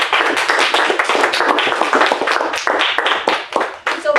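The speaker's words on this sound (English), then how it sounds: "we do a lot of clapping, so just get used to it and warm up" Audience clapping at a Toastmasters club meeting, a dense, steady patter of many hands close by, continuing for several seconds with a brief dip near the end.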